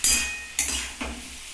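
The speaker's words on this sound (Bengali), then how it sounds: "এই টমেটোটা হচ্ছে সিদ্ধ টমেটো, এর মধ্যে আমি দিয়ে দিচ্ছি।" Boiled tomato is tipped into a hot pan of mung dal, giving three sharp clattering hits of a utensil against the pan, each followed by a fading sizzle, loud and close.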